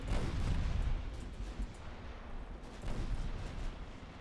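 Warships fire their guns in the naval video game Ultimate Admiral Dreadnoughts. Two heavy booms a few seconds apart roll out over a constant low battle rumble.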